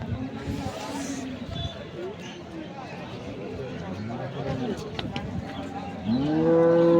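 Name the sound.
dairy cows mooing at market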